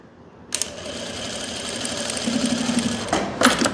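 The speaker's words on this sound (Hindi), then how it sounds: "यहाँ पे आपने डबल सिलाई लगा देनी है ऐसे," A sewing machine runs a double line of stitching along a kurti seam, starting with a sharp clack, whirring steadily and close for about two and a half seconds, then stopping with a few clicks.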